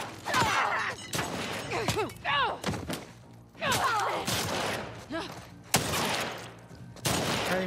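A single-shot rifle fires repeatedly in The Last of Us Part II, sharp separate blasts spaced about a second apart, mixed with game thuds and someone talking over them.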